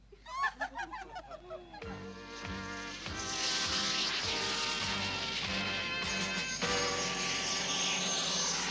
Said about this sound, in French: Roger, rangez votre avion sur la plateforme 504.